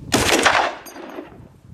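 Gunfire aimed at an oxygen tank: a sharp, loud burst of rapid shots that trails off over about a second, close by with no talking.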